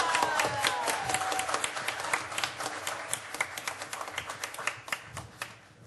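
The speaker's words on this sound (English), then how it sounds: "Round of applause from everyone." Audience applause for a grandmaster at a gathering, starting as a dense burst of clapping and thinning into scattered, distinct individual claps that taper off toward the end.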